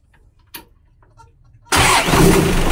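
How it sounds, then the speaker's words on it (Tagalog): Engine cranks and catches after a clutch lining repair on an FB Dangyn 9 whose rusted lining was slipping. A short click and quiet moments come first, then the engine suddenly fires and runs loudly and steadily at close range. "Pakinggan natin yung engine kung wala na bang slide yung tunog niya."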